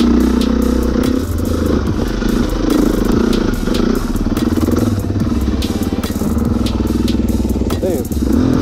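A track dirt bike engine revs and sputters while riding over wet shale in the Arkansas mountains, loud and close, with uneven throttle surges and clattering, while a voice talks over it.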